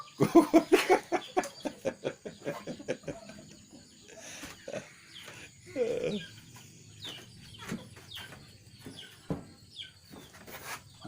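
Two chickens kept at a rural Thai house cluck in short bursts, some close and some further off, with a few soft voices in the background and quiet gaps between.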